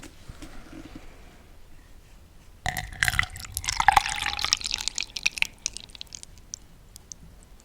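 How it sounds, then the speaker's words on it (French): Water poured into a cup in a cosy indoor setting, a bubbling, trickling pour rising partway through and continuing with small splashes and drips, close and fairly quiet, with no talking. "verser de l'eau dans un gobelet, je trouve ça trop relaxant"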